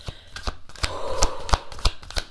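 Tarot cards being shuffled by hand at close range, a rhythmic series of crisp slaps and riffling flutters repeating about every third of a second, with no talking.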